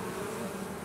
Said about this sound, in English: this group of bees has decided that they'll swarm with her